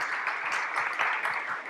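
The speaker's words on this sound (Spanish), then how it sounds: "Un aplauso" Audience applause at a panel discussion on suicide, a steady and fairly soft patter of many hands heard from a distance in a room, with no break for the length of the burst.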